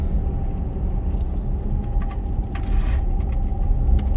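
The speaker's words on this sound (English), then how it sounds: "Everything in here rattling is all my gear out of my truck in the boot of the car." Gear from a truck loaded in a car boot, rattling and knocking in small irregular bursts over the steady low rumble of the car driving along a road, with no talking.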